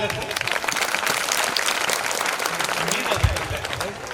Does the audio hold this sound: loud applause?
yes